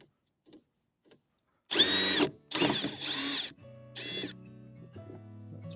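A power drill backs screws out of an old mailbox on a post in the ground, with three close, loud whirring bursts after a few faint clicks, the last burst dropping to a lower, steadier hum.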